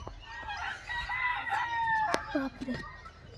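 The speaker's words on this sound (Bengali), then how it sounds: "এখানে লোকাল বার্ড পাওয়া যায়, যেটা হচ্ছে হেন, মোরগ আর মুরগি।" A rooster at a bird park in Pelling, Sikkim crows once in a long, drawn-out call, loud and fairly close, followed by a few short clucks; faint voices sit in the background.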